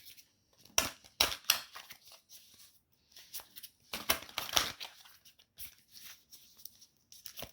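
Moonology oracle cards are shuffled by hand in quick, crisp riffling bursts with brief pauses between, close and fairly quiet.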